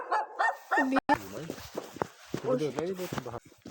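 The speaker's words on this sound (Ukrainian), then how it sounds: "О, ось собачка така гавкає." A dog barks and yips repeatedly at moderate distance, the barks interleaved with a person talking nearby.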